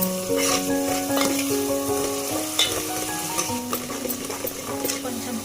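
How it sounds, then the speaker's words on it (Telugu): Ginger garlic paste fries in a pan while mutton and cucumber curry is being made, sizzling steadily and fairly close, with occasional clinks of a utensil stirring it against the pan. "తర్వాత అల్లం వెల్లుల్లి పేస్ట్ వేసుకొని పచ్చివాసన పోయేంత వరకు వేయించుకోవాలి"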